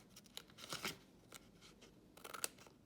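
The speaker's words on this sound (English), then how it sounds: "So cut away these corners" Scissors snip away paper corners while cutting out a faceted bauble, a few short crisp cuts in two quiet clusters, close by with no talking.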